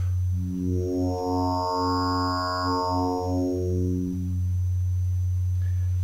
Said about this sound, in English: It's a phase distortion sine wave.